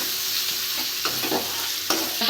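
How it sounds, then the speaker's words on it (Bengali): Spices frying and being stirred in hot oil for Bengali jhinge chochori: a close, steady sizzle with scraping stirs and a few sharp clinks of the spoon against the pan, no talking. "ভালো করে কষে নিয়েছি আমি"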